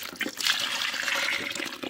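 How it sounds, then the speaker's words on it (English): Water is poured over the top of plant nursery pots, a steady soft splashing and trickling that runs for about two seconds, quiet and close, with no talking. "And I also pour some more on top,"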